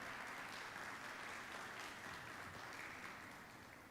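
A church congregation gives a strong, sustained round of applause during a sermon, a dense wash of clapping that stays even and alone before fading slightly at the end.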